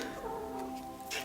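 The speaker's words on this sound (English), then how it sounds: "That was a cat." A cat meows once nearby, a short tonal cry over a faint steady background hum.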